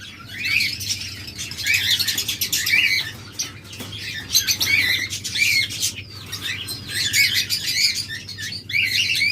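Lovebirds and cockatiels kept as breeding pairs chirp and tweet constantly in a dense, close chorus, with bright overlapping calls and some wing flutter over a low steady hum.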